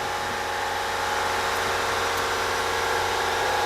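A Renault Duster idles near its exhaust muffler, a low, even engine drone running steadily and fairly loud with no other sounds.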